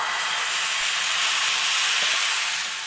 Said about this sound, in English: Looks like the coffee is a boiling